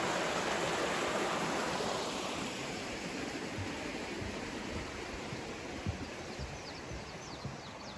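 Stover Creek flowing beside a forest trail on the Appalachian Trail in Georgia, a steady, loud broadband rush of water that fills the whole stretch with no voices.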